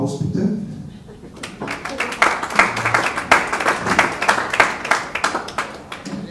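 A room at an ice hockey press conference fills with brisk clapping after a short spoken passage, the applause building into a dense, steady patter of many hands close by.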